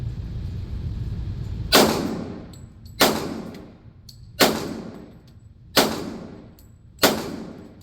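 Five sharp pistol shots from a Heckler & Koch HK45, spaced about a second or so apart, each a loud crack with a short ringing decay over a low background rumble.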